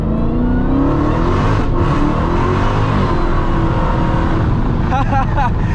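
A Dodge SuperStock Redeye Widebody accelerates hard in second gear, its supercharged engine roaring loud and steady from the cabin with a rising whine, while people talk over it.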